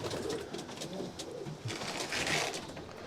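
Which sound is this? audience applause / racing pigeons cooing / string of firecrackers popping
racing pigeons cooing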